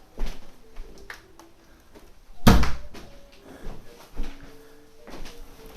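A door is shut with a single sharp, fairly loud bang midway, with quieter knocks and household sounds before and after, while machine noise hums faintly in the background.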